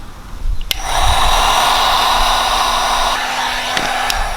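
Heat gun blowing hot air onto a 1 inch pipe to soften it during inflatable kayak modification, a loud steady whooshing hum lasting a few seconds after a click at the start.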